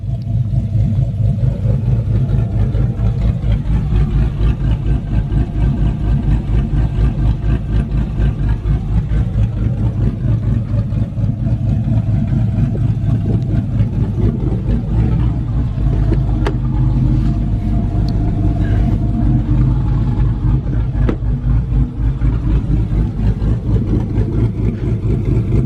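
A 6.2 V8 car engine fitted with upgraded heads, cam and intake rumbles with its exhaust cutout open, a loud, deep, steady idle with a lumpy, choppy beat that holds throughout, close by and with no talk.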